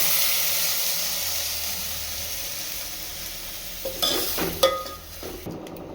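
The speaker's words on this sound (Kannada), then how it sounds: "ಇವಾಗ ಈ ಥರ ಕುದಿಬೇಕು." Field bean (avarebele) soup boiling in a pot gives a steady bubbling hiss throughout, with a few brief clatters of stirring near the end and no talking.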